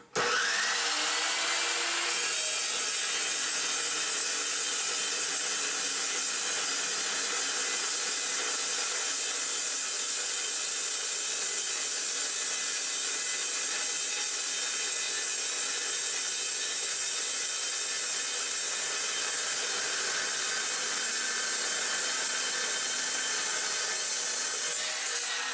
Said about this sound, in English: we'll slice it off again